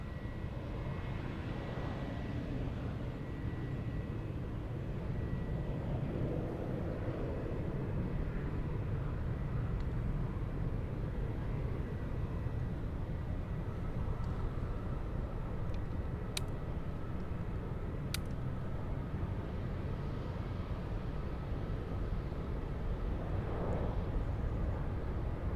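A Boeing 747 taking off from Munich airport heard from outside, a broad continuous jet engine roar that holds steady and loud throughout against a distant open-air background, with no talking.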